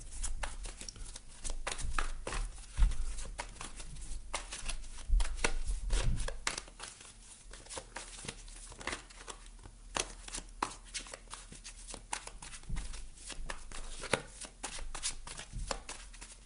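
Tarot cards shuffled by hand in a long run of quick, crisp riffling flicks and taps, close and fairly quiet, with the occasional soft thump as cards are laid down; no talking.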